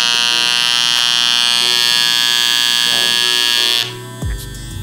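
Andis Masters hair clippers with a loosened adjusting knob give a loud, steady electric buzz for almost four seconds. The motor then cuts off, leaving a brief clunk of handling.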